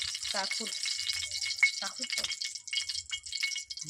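Homemade lentil bori frying in hot oil, a steady crackling sizzle with occasional stirring rattles, close up, with a voice speaking over it.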